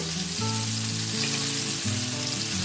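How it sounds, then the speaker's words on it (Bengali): Tomato pieces fry in a pan with a steady, close sizzle and crackle that runs without a break, with no voices. "আমার এক পিস ভাজা হয়ে গেছে আমি অন্য পিসটা আমি উল্টিয়ে দেব এভাবে পুরা পুরা করে ভেজে নিতে হবে"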